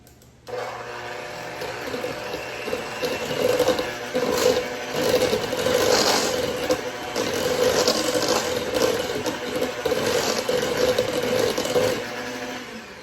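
An electric mixer blending almond flour into chocolate beet cake batter, starting abruptly and then running as a steady, close whir with a slightly labored, fluctuating tone for about twelve seconds before cutting off.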